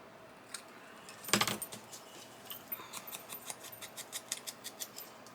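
Scissors trimming excess paper from a folded junk journal tag: one louder snip burst, then a quick run of small, crisp, closely spaced snips, all near and with no talking.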